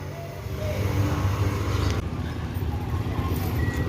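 Palala intercity bus rolling into Terminal Balai Solo in front of the official ticket counter, a steady low engine rumble with road and terminal noise throughout, moderately loud and continuous.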